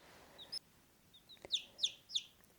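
Baby chicks in a backyard chicken-keeping setting give a few thin, high chirps and peeps, spaced out and fairly faint against a quiet background, with one soft thump in between.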